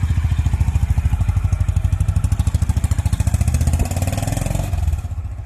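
A Honda CB350RS motorcycle fitted with a carbon front fender extender and mud flap thumps along on a test ride, its single-cylinder engine beating in a loud, steady close rhythm with slight pitch shifts and no speech.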